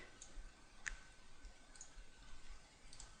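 A single computer mouse click lands near the start during software editing work, with a few fainter ticks after it, all quiet against a low background hiss and no talking.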